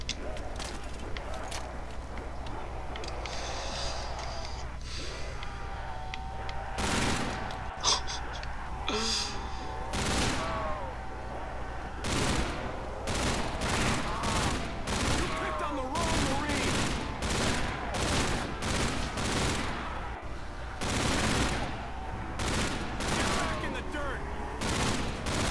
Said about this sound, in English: The gun sounds so good.